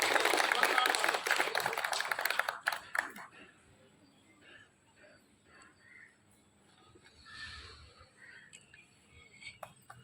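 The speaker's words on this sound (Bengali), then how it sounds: "একটা জোরদার করতালি।" An audience at an agricultural awards event breaks into loud applause that lasts about three seconds and then dies away, leaving faint talk and light background noise.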